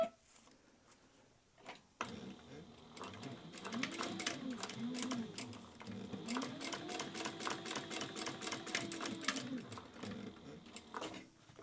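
A sewing machine stitches down a fabric edge, its rapid rhythmic needle clatter running steadily for several seconds at close range.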